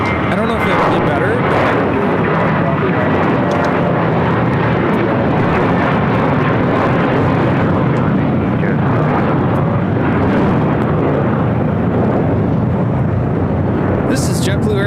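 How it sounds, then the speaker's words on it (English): A JetBlue Airbus A321 jet taking off at LAX, a loud, sustained broadband engine roar that holds steady throughout, with a voice talking over it. "This is JetBlue Airways Flight 2010 taking off to West Palm Beach on an A321."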